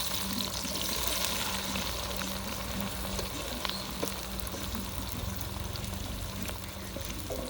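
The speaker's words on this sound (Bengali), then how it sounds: "পেঁয়াজটা সুন্দর করে ভেজে নিব লাল লাল করে" Onions frying in a pan for a Bengali mutton curry give a steady, close sizzle with faint stirring scrapes running through the whole stretch, no voices over it.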